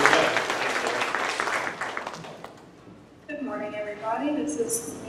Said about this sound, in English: we'll just give Maggie a round of applause.